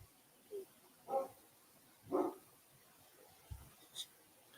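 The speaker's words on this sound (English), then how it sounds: "Y'all hear the dog barking." A dog barks a few times in separate short bursts at moderate distance, with quiet gaps between the barks and a faint yip near the end.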